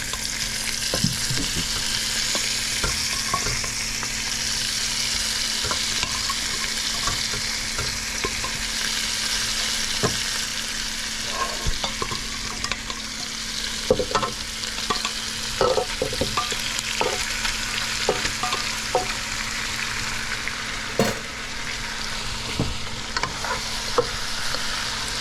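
Pigtails fry with wilted onions in a pan, giving a loud, dense, unbroken sizzle close by, with occasional clicks and scrapes of stirring throughout and no voices.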